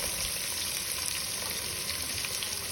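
Onions and tomato frying in a pan for a borugula uggani dish, a steady close sizzle with soft crackling throughout, no voices.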